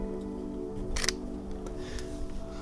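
Mechanical shutter click from an inexpensive photography camera bought on Temu, a single sharp snap near the middle, close and fairly quiet over a steady low hum.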